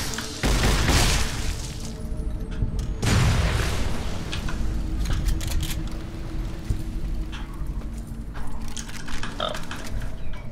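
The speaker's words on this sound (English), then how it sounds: "So apparently, enemies just explode on death now" Enemies bursting apart on death in the video game Fallout New Vegas during a fight: two heavy booming blasts early on, followed by a steady rumble of scattered gunfire and grunting creatures.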